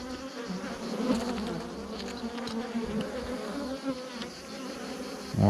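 Honeybees swarm around an open hive with a beekeeper checking bee bread and honey, a dense continuous buzzing drone close by with individual bees zipping past.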